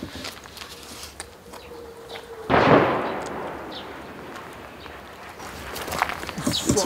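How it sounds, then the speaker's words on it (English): Artillery fire in a war zone near the Ukraine front: a single loud boom about two and a half seconds in, with a long rumbling decay over faint background sounds and distant chatter. "That's U-crop artillery inside the 100-kilometer zone shooting at us."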